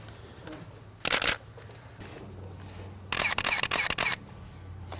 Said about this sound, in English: Now the horse is used to the shutter click, and that's fine.